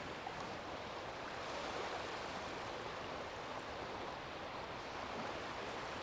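Incoming tidal water on the Bristol Channel shore makes a steady, broad rushing wash that swells slightly at times, fairly soft and continuous with no one speaking.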